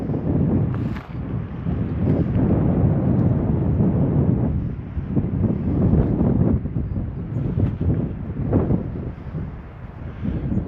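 Strong wind buffeting the microphone on a mountain trail near Whittier, Alaska, with continuous low roaring gusts that swell and dip, occasionally spiking louder, with no voices.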